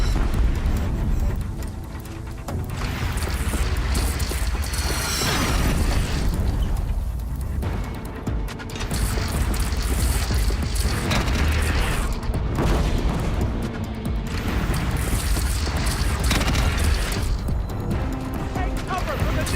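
Deathbringer gun fire in Horizon Zero Dawn, dense continuous booming explosions and crashing impacts that stay loud throughout, with voices talking over the barrage.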